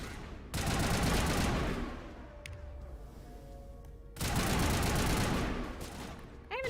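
Assault rifle gunfire in the video game Mass Effect comes in two long, loud automatic bursts, with a quieter pause between them.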